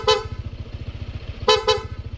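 PIAA horn fitted to a Honda ADV160 scooter-motorcycle: a short loud honk, then a pause, then two quick blasts close together, heard over the idling engine's steady low putter.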